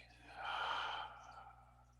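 A person slowly breathing out after a deep inhale in a guided mindfulness session, a soft airy exhale that swells then tapers over roughly a second, close and quiet with no speech.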